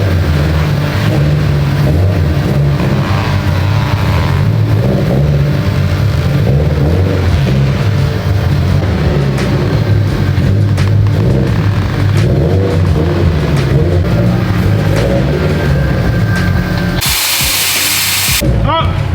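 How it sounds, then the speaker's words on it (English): A loud turbocharged Toyota 86 engine revs hard and steadily on a dyno for a long stretch, with mechanical whine and clatter, before cutting off abruptly near the end. "we're gonna pull this thing up on the dyno"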